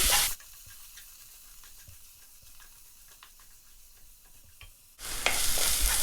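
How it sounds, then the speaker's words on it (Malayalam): Crushed coconut sizzles and crackles in hot oil with popped mustard seeds and curry leaves, a steady soft frying hiss with occasional stirring scrapes, framed by louder bursts at start and end. "ഇനി ഇതിലേക്ക് ക്രഷ് ചെയ്ത് വെച്ച തേങ്ങ ചേർക്കാം. ഇതൊന്ന് മൂപ്പിച്ചെടുക്കണം"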